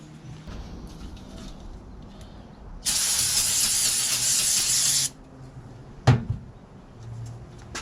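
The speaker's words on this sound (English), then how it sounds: "Going to take this rag, spray some brake cleaner on it" Brake cleaner sprays from an aerosol can onto a rag during cleanup of a Ford 289 front cover from a 1967 Cougar, a single loud hiss lasting about two seconds, followed by a sharp clunk.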